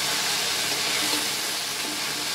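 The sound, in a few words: ivy gourd (kundri) frying in a pan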